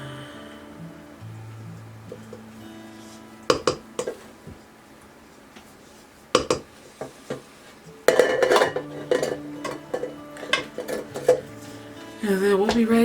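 Butter cookie batter being mixed in a bowl, with intermittent bursts of clattering and scraping against the bowl, louder and more continuous in the second half, with no talking.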